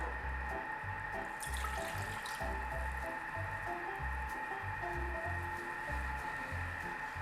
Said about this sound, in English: We pour in the water.